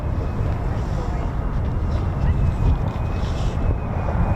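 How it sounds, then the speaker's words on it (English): F-35 fighter jet flying overhead near an air force base, a steady broad roar with wind buffeting the microphone, holding at a loud even level throughout. "No, it's an F-35."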